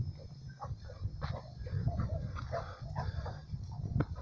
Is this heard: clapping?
no